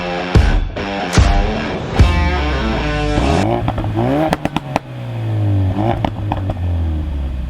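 A Ford Focus RS engine revs hard several times, loud and close, with sharp throttle blips, crackles and pops between rising and falling revs before settling into a steady idle.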